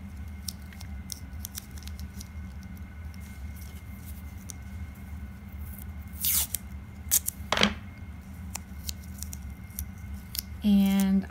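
Strips of tape pulled and torn at a tabletop craft project, giving two short rasping bursts followed by a quick ripping stutter at the end, close by over quiet room hiss.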